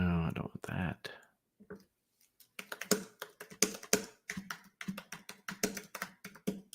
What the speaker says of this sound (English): See, there's those typing skills.